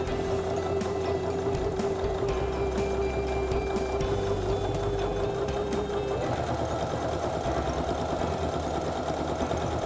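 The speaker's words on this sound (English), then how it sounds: "So I'm just going to show you a little demo here on the sewing machine." A sewing machine stay stitching a pocket runs continuously up close, its needle hammering in a rapid steady rhythm, with a slight shift in pitch partway through.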